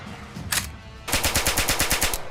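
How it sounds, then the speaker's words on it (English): Gunfire recorded for the Sniper Elite 5 video game: a single loud shot, a pause, then a rapid automatic burst of about ten evenly spaced reports, close and sharp. "the distant recordings that we can use for distant gunshots in the game"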